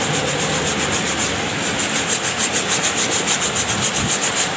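Steady rhythmic rubbing of a motorcycle cylinder head (CB/Tiger) being lapped flat on abrasive, a close, continuous scraping swish with a regular back-and-forth pulse and no talk.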